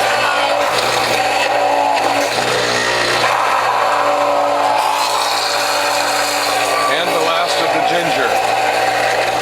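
A WHF juicer grinds watermelon rind, blueberries and ginger with a constant loud motor whir and churning, while a person talks over it.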